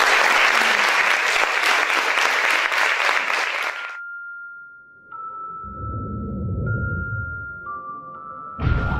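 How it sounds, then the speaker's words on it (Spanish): Loud applause from an audience for panel speakers at a university talk fills the first few seconds and then stops abruptly, giving way to a sustained tone and low rumbling. "les pido un fuerte aplauso para nuestros conversadores"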